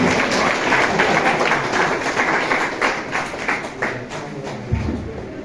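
Lively applause from a gathered crowd greets a memento handover at a school alumni reunion, with quick steady clapping that thins out toward the end.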